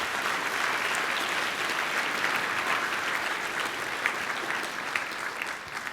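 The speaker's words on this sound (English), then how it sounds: "How about a round of applause for the people that have been in the service?" A crowd claps steadily and continuously, a dense wash of applause at full strength that holds for the whole stretch with no voices standing out.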